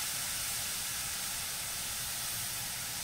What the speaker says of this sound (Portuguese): vamos refogar essa cebola também